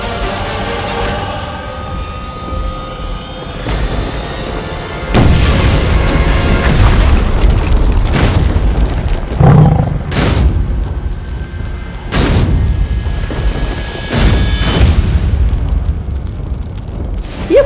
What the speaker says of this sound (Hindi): ये भैरानी कैसे उड़ गई आतिशबाजी बनके?